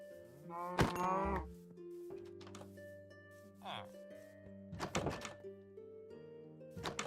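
Minecraft cows give a few brief, low moos among blocky thunks and clicks of the game, while a player keeps talking.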